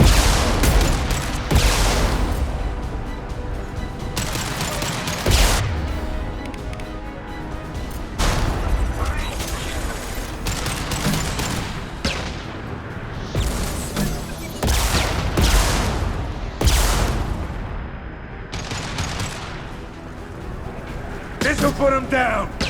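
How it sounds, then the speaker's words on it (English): Impact shots and gunfire in Mass Effect 2 crack repeatedly over about twenty seconds, with sharp loud bursts and booming hits among constant combat noise, while character voices speak throughout. "Firing an impact shot!"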